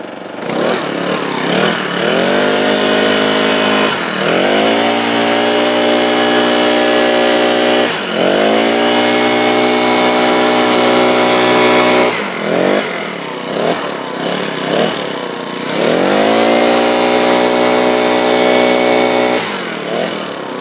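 Honda HHB25 handheld leaf blower running close up, its small engine revving up and down in repeated loud surges with throttle drops in between.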